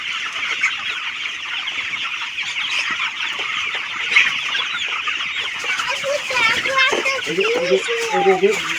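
Chickens in a poultry shed cluck nearby, a dense chattering flock whose calls grow busier and louder toward the end, with a voice briefly mixed in.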